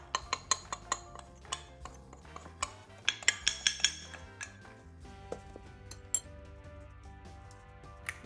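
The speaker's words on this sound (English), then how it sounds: "Mix the flour to the sugar to break all the clumps." Flour stirred into brown sugar in a bowl, a utensil clinking and scraping against the sides in quick irregular taps, fairly faint and close, with no talking.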